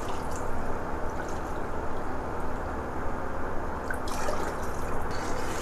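Water pours and trickles steadily into rice for Basanti pulao, a quiet continuous liquid sound heard close up.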